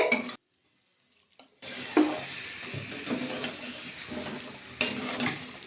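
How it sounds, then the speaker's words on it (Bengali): Potatoes and flat beans sauté in spices in a pan, with a crackling sizzle and scraping stirs after a brief silent gap, the sounds close and moderately loud. "এবার এর মধ্যে অ্যাড করে দেবো আলু আর সিম অল্প অল্প জল তোমার কিন্তু কষিয়ে নিতে হবে"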